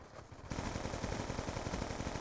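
Sentry gun in Call of Duty Black Ops 2 opening up with rapid, sustained automatic gunfire, loud and close, a steady burst of rattling shots running throughout after a brief quieter lead-in.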